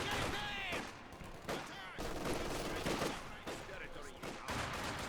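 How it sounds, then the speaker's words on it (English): MG42 machine gun fire in the video game Company of Heroes 2 rattles in loud, dense bursts mixed with other gunfire and explosions, with brief gaps between volleys, and a commentator talks over the battle. "The suppression from that MG42 did come in."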